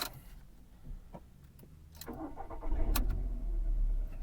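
A car with an automatic transmission starting up: a few faint clicks, then the engine cranks and catches into a louder, steady idle rumble near the end.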